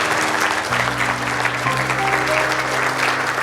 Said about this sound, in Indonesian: kita tepuk tangan yang meriah kepada Bapak